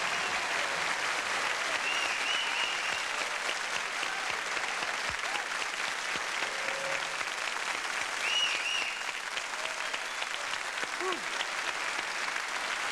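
Sustained applause from a large French television studio audience welcoming Johnny Hallyday, steady and dense clapping throughout with no voices standing out.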